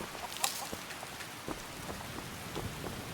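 Rain falling in the Skyrim video game, a steady hiss of rainfall on surfaces with scattered droplet patters and faint low rumbles throughout.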